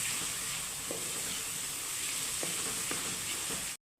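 Garlic-ginger paste sizzles steadily in a hot pan for a mung dal dish, a dense continuous frying hiss with a few faint stirring clicks, close and even, then cutting off abruptly at the end.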